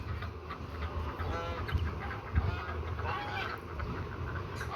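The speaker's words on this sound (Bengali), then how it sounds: "দেখেন আমার হাঁসগুলা খাবারের জন্য ডাকতেছে" Belgian ducks call for food in a farmyard beside their coop, a loose chorus of repeated quacks and honks at moderate distance over a low background hum.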